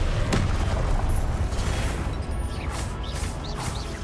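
Confringo and Incendio spells blast in the Hogwarts Legacy video game, a dense run of fiery crackling bursts and booms with a rushing roar that fades slightly toward the end.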